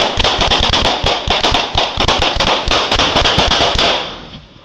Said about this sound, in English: Suddenly, the suspect drew his weapon and opened fire